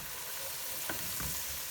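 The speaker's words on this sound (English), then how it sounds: "I'm going to stir in my flour to make our roux." Flour is stirred into hot fat in a pot to make a roux for chicken and dumplings, giving a soft, even sizzle with a couple of spoon scrapes and taps, quiet and close.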